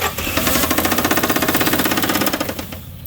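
A Toyota Supra's 7M engine, after sitting for 27 years, runs rough under a little throttle, a loud, close, uneven pulsing rumble with rapid knocking beats that fades slightly at the end.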